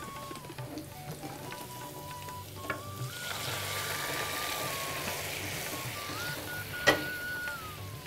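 Onion tempering sizzles in a pan with lentils, a faint, steady frying hiss with light stirring scrapes and a brief clink near the end.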